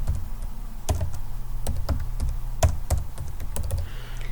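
Steady clicking of computer keyboard keys in short bursts, close and fairly quiet, as a scene name is typed in, with a low hum underneath.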